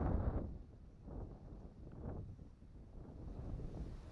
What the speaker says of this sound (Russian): Блин, ветер мешает,